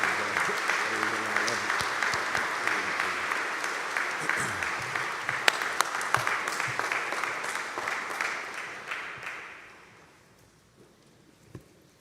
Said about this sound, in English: Let us receive our dear brother with a warm, well-deserved round of applause.